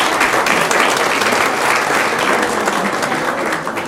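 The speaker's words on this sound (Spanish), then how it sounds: "Entonces lo despedimos por favor con un fuerte aplauso." Audience at a conference on virtual social networks claps after a talk. Loud, sustained applause from a full room carries throughout and tapers slightly at the end.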